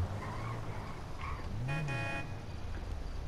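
A car horn toots in a roleplay street scene, one short honk in the middle over a steady rumble of engine and road noise.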